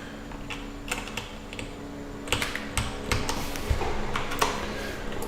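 Computer keyboard typing while designing a circuit board, with irregular clusters of light clicks and a few sharper key strikes, moderately close and fairly quiet over a faint steady hum.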